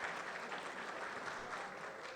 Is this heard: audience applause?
yes